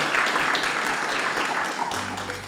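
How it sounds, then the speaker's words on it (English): Audience applause at a live podcast recording on tour, a dense wash of many hands clapping steadily for a couple of seconds before thinning out, with a faint low hum entering near the end. "Can we give them a round of applause, please?"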